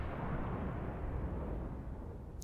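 Warship main guns firing at the Tirpitz, a German battleship in the World of Warships naval game, heard as a dense, continuous low rumble of distant gunfire and blasts with no talking.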